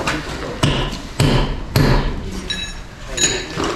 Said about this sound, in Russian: бери молоток, подбивай клинышек